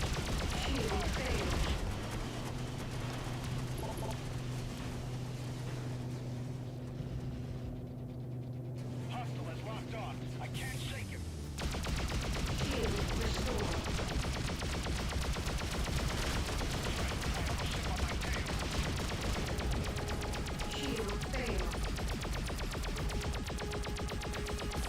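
Spaceship guns in the space combat game Freelancer fire in a dense, continuous barrage over a steady low throbbing engine hum, with a brief lull midway before the rapid fire resumes.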